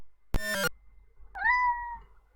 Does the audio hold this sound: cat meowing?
yes